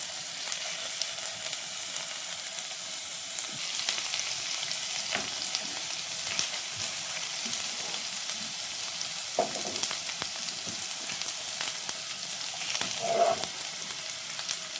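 Crushed ginger and garlic frying in about two tablespoons of coconut oil in a hot pan for pepper chicken, a bright continuous sizzle with occasional stirring scrapes, close and steady throughout without talk.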